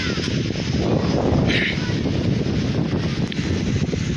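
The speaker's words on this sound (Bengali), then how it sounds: "এত বাতাস হচ্ছে, আল্লাহর রহমত" Strong wind before rain in Jessore–Satkhira, Bangladesh, buffets the microphone with a continuous low roar and rumble, steady and loud for the whole stretch.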